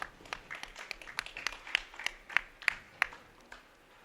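Applause from a sparse crowd at a senior bowling tournament's stepladder finals, a thin scattering of individual claps, some sharper and closer, fading out after about four seconds.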